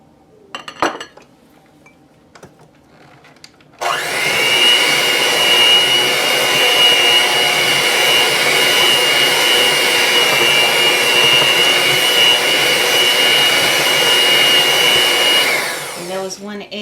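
Electric mixer beating cheesecake batter in a kitchen. After a few soft clinks, it starts abruptly and holds a loud, steady whir for about twelve seconds before winding down.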